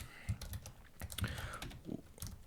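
Computer keyboard typing as code is entered, with quick irregular clicks of keys in short bursts, faint and close, under a soft talking voice.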